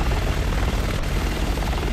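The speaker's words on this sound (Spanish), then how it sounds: "Ese helicóptero está a punto de abrir fuego." An attack helicopter in the video game Resident Evil 6 thunders close by, with loud, continuous rotor chop and engine roar that fills the whole span without any speech.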